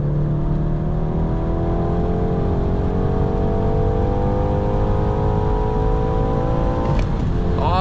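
A 2019 BMW 430i with a manual gearbox pulls hard in third gear from 100 to 200 km/h, its engine note rising steadily under wind and road roar, before a sharp shift near the end.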